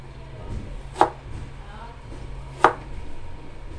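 A knife chops ginger into thin strips for cooking catfish, two sharp, distinct cutting thuds about a second and a half apart on a board, with a quiet room hum in between.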